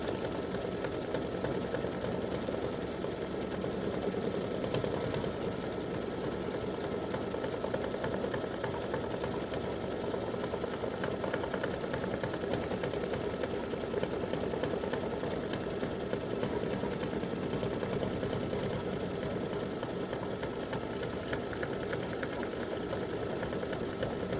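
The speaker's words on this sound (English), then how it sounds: "it is a triple stitch, so it'll go over it 3 times as it's sewing" An embroidery sewing machine runs a triple stitch over the design, a continuous, even mechanical hum and rapid needle chatter that holds steady throughout, close and fairly quiet.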